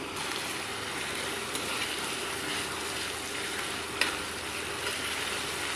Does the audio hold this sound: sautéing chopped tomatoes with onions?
yes